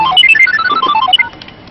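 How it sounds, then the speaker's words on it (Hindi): A short burst of an electronic phone ringtone plays a quick, bright melodic pattern, close and loud, then fades out. "इस वक्त किसका फोन है?"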